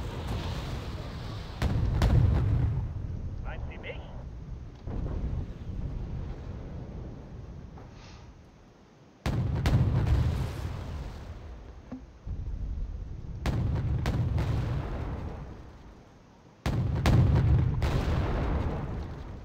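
Cluster bomb explosions in the Wargame: Red Dragon game, in an East German skirmish: repeated loud, deep booming bursts that recur in waves across the stretch, with rumbling gaps between them.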